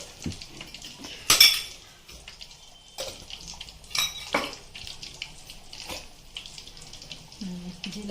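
Spoon stirring an amla pickle mixture with fine cumin powder mixed in, a few clattering scrapes and knocks of utensil against a pot or bowl among quieter mixing sounds, close by.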